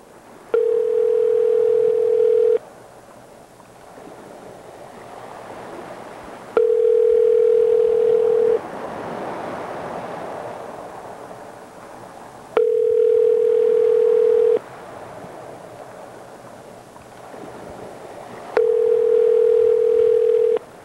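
Ringback tone of a telephone call: four loud, steady tones, each about two seconds long, separated by roughly four-second gaps, with faint background room sound in between.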